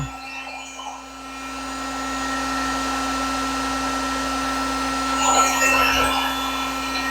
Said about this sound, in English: I'm going to lay it over a heat gun here,